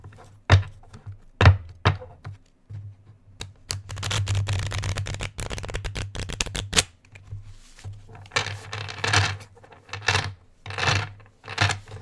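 Ocean jasper stones shuffled by hand, giving crisp clinking and rattling bursts, a few sharp clicks first, then a long busy shuffle and later clusters of clatter, close and fairly loud.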